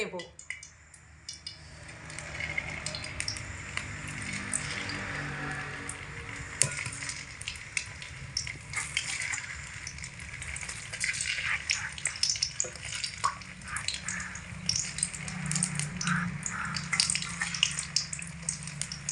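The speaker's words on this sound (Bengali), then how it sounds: "এখানে মোটামুটি আটটা বড়া দিয়ে দিয়েছি রেখে মোটামুটি দু মিনিট মতো ভেজে নেব" Flattened rice (chira) fritters, about eight, frying in hot oil on low heat, a continuous bubbling sizzle with occasional clinks of utensils against the pan and faint running water in the background.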